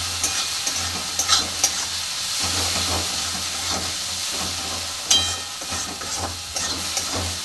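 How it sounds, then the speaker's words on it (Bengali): Spice paste with Kashmiri red chili powder fries in a pan for a fish curry, a dense steady sizzle with a low hum beneath and occasional spatula clicks and scrapes, no speech. "এবার মশলাটাকে ভালো করে কষবো।"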